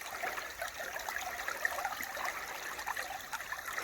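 Water trickles and dribbles from a leak in a line at a maple sap operation, a faint continuous babbling with small splashes, heard alone without talking.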